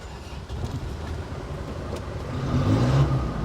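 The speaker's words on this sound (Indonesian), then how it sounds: "Kalian harus mendengarkan bagaimana suara mesin diesel zaman Firaun." An old Isuzu Panther diesel engine rumbling nearby, steady at first and growing a little louder and rougher toward the end.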